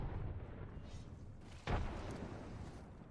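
A grenade blast in the Apex Legends video game: a single muffled boom rises suddenly out of steady background game noise, moderately distant and not very loud.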